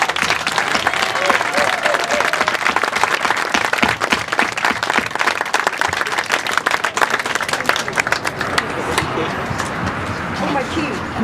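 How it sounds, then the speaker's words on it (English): A crowd claps and cheers at an outdoor trail dedication in Folsom. The applause is loud, close and sustained, with sharp individual claps over a dense wash and thinning slightly toward the end. "I'll give you a round of applause."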